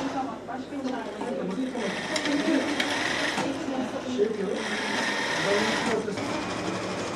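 A sewing machine stitches medical masks in a hospital tailoring workshop run by volunteer health workers, its steady mechanical whirring running throughout while voices talk over it.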